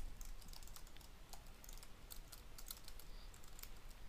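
Keys clatter on a computer keyboard in quick, irregular bursts of typing and tab presses, faint and close, with no talk.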